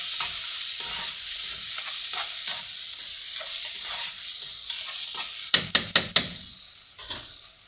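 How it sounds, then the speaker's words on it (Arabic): Food seasoned with salt and black pepper sizzles as it is stirred in a pot for a cow trotters and rice dish. The frying is steady and close, broken by a quick run of sharp spoon knocks against the pot. "واحط ملح واشوحه الاول كده مع بعضه اهو"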